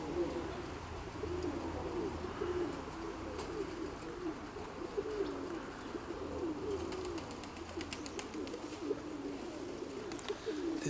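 Pigeons coo steadily in low, rolling murmurs, several birds overlapping close by, with faint chirps and rustling in the background.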